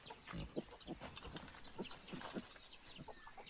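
Chickens clucking on a farm that also keeps ducks and pigs: a steady run of short, close clucks and squawks in quick irregular bursts, with scattered higher chirps throughout and no talk.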